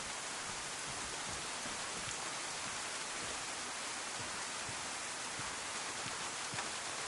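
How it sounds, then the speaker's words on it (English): Steady, fairly faint rain in the video game DayZ, a constant hiss of falling water without pauses or voices, even in level throughout. "Wow, what rain."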